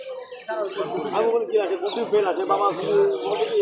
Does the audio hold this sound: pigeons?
yes